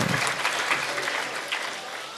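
An audience at a Jain religious ceremony breaks into applause, a dense steady clatter of many hands that fades slightly toward the end.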